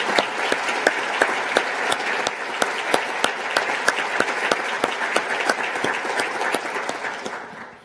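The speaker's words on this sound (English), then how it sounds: "let's please give a round of applause to Dr. Katrina Caldwell." A large audience at a university's State of the University Address applauds steadily, dense clapping that holds strong for several seconds before fading out at the end.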